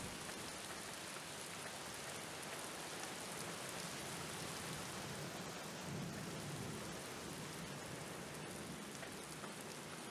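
Steady heavy rain in the video game Black Mirror, a dense continuous hiss with low rolling thunder rumbling beneath it, close and even throughout with no voices.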